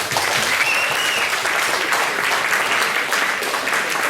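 A seminar audience breaks into sustained applause, dense steady clapping from a roomful of people that holds at an even level throughout without voices breaking through.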